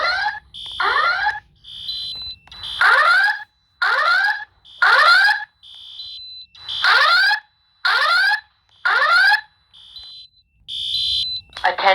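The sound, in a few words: school fire alarm with evacuation voice announcement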